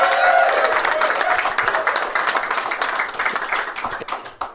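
An audience claps for an event sponsor, a dense patter of many hands that starts fairly full and gradually thins and fades into scattered claps.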